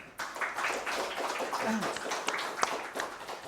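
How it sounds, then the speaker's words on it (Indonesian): Applause from an audience at an anti-fraud governance talk show event, a brief burst of clapping under and alongside ongoing voices, moderate in level and fading after a few seconds. "Kita beri tepuk tangan dulu Bapak Ibu."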